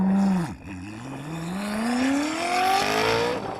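Koenigsegg CC850 in manual mode accelerating hard, engine note climbing through a gear, dipping briefly at a shift, then rising steadily again; loud and close, with no talk over it.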